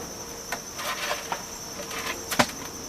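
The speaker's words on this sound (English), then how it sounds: "Here's my bees on the top of this board." Honey bees crawl over the top board of a beehive, giving a steady, close insect buzz with a thin high drone and a few scattered clicks and taps.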